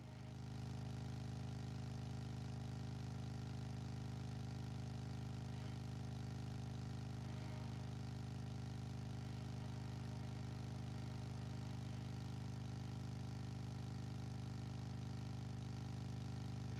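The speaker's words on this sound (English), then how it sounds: "I reckon the Tucker engine's got a bit more" A Tucker engine car in the Drive Beyond Horizons video game labours up a steep hill, giving a steady, loud mid-pitched drone that holds constant throughout with no talking.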